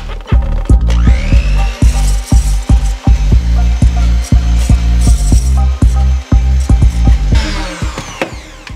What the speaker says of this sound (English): I'm gonna sprinkle the xanthan gum on top and whisk vigorously.